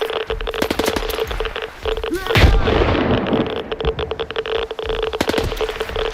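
A grenade blast and gunfire in the shooter game S.T.A.L.K.E.R. 2, with a loud broadband burst about two and a half seconds in. Sharp rapid gunshots come before and after it, and a steady tonal game hum runs under everything.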